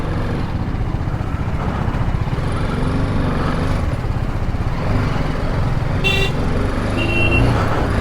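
Heavy road traffic on a foggy mountain ghat road in Kerala, heard from a bike: a steady loud roar of passing cars, buses and motorcycles, with a short burst of horn toots near the end.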